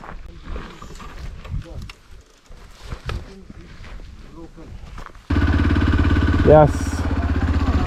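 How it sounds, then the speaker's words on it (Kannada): Off-road motorcycles arriving on a heavy trail: after a stretch of talk and faint background noise, loud engines suddenly roar in nearby and hold steady with a brief rev, under voices. "ಎಲ್ಲ ಬೈಕ್ಸ್ ಬಂತು"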